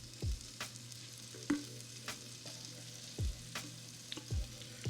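Onions cooking gently in butter in a pan, a faint low sizzle broken by a few sharp clicks and scrapes of a utensil, quiet and close with no talking.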